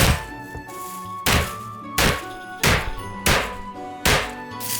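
A cucumber in a plastic bag is struck hard again and again, six heavy thunking whacks at roughly even intervals, close up, with plastic rustling between blows.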